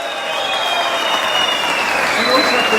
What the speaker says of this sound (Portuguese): o goleiro Irã, recebendo as palmas de você